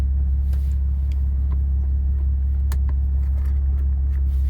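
A Bentley Continental GT engine idles steadily with a deep, constant rumble, loud and close, with a few faint clicks over it.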